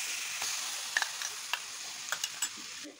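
Poppy seed and ginger paste sizzles steadily in a hot pan, with a soft continuous fry broken by a few sharp stirring clicks and taps of a utensil, close and fairly quiet.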